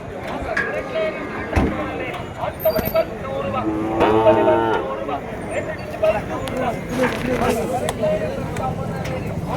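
A large, dark, good-quality cow at the Matrapalli cattle market gives low moos amid steady market hubbub, with nearby voices talking throughout.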